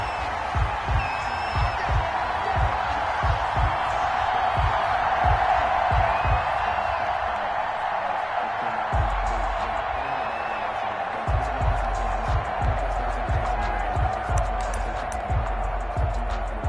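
Steady roar of a large football stadium crowd awaiting a Pittsburgh Steelers versus Chicago Bears game, with a continuous wash of voices and occasional whoops alongside rhythmic low thumps across the clip.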